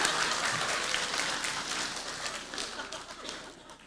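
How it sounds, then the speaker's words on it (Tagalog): An audience at a talk gives a short, weak round of applause: scattered clapping that fades over a few seconds, with some voices underneath. "Ang hina nung palakpak"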